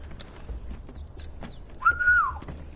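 A wolf whistle sounds in the video game Conan Exiles: a rising-falling two-part whistle, loud and near, after faint chirpy whistles and soft footsteps.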